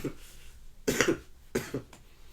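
A few short, rough coughs close to the mic, two main bursts followed by a faint smaller one, with no talking.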